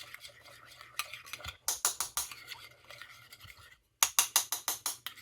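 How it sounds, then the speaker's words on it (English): A spoon scrapes and clinks rhythmically against a bowl while mayonnaise salad dressing is stirred, in quick bursts of strokes separated by a brief pause, close and fairly quiet. "Mix it up good."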